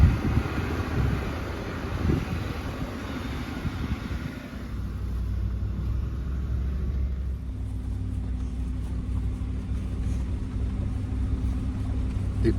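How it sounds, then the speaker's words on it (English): A pickup truck climbs a steep mountain road, its engine a steady low rumble with heavy wind buffeting against the microphone, continuous and fairly loud throughout with no talking. "It pains Daddy to bring his truck up here."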